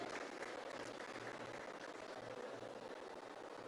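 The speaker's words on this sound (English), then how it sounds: "I think a round of applause will do." Faint, distant audience applause at an outdoor political rally for a party manifesto launch in a school park, a steady wash of clapping with a low hum underneath and no clear voices.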